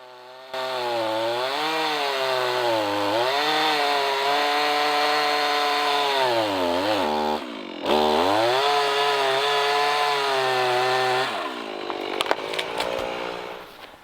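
A chainsaw cuts relief notches into tree branches, its engine droning loudly and continuously with pitch dips as the chain bites the wood, briefly cutting out and restarting, then winding down at the end.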